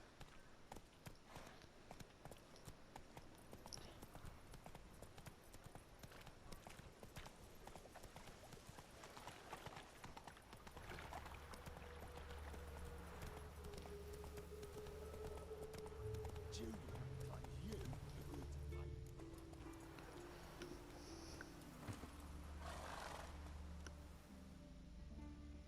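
Hooves of the horse Roach clip-clop steadily through The Witcher 3, a continuous trotting rhythm running the whole way, joined partway by a low droning music bed and occasional voices.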